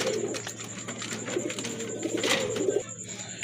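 Pink-beaked fancy pigeons coo close by in soft, repeated low calls, with a faint steady hum in the background.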